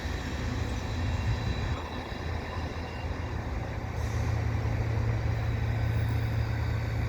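The tail end of a CN freight train passes at Dorval, a continuous close rumble of rolling cars and wheels on rail that stays steady to the end.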